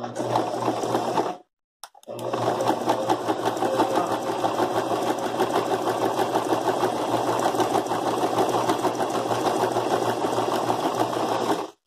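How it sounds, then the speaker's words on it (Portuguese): A sewing machine stitching a seam on a zipper runs in a fast, even mechanical patter, close and loud, pausing briefly near the start and then stitching steadily to the end. "E vamos bater essa costurinha aqui."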